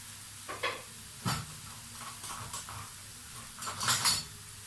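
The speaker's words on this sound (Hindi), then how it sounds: "अब मैं इन आलूओं को तोड़ती जाऊंगी और मिक्स करती जाऊंगी।" Boiled potatoes are broken up and stirred into spiced samosa filling in a pan over low flame. A utensil scrapes and clinks against the metal in scattered, fairly quiet taps and knocks, with a faint sizzle beneath.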